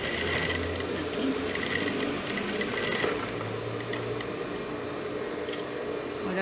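Sewing machine running steadily while stitching the folded crotch seam of a child's boxer shorts, a continuous mechanical hum and whir at close range with no pauses.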